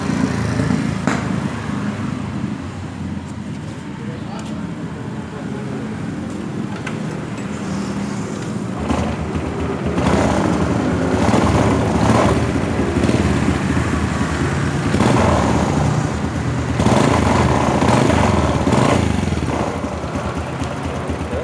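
A Honda Supra Fit motorcycle engine running with a rough, grinding noise, a loud continuous low rumble that swells slightly partway through, with no one speaking.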